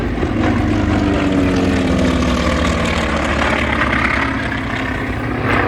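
An 800-horsepower T-28 Trojan propeller plane flies past at an airshow, its engine a loud, steady drone that rises and falls slightly as it passes, with no voices over it.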